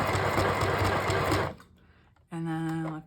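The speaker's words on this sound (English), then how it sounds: "I'm going to go to another zigzag stitch" A domestic sewing machine runs a zigzag stitch in a loud steady whir for about a second and a half, stops into near quiet, then starts again with a humming motor tone.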